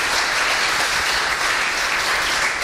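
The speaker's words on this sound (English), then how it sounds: "a big applause for our six speakers." A conference audience at an Ignite talks session gives its speakers a big round of applause, continuous, dense clapping filling the room at full volume throughout.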